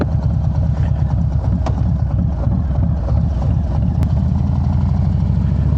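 A Harley-Davidson Low Rider ST motorcycle engine idles just after starting, a loud, low, steady rumble that stays up close the whole time, with two brief sharp clicks along the way.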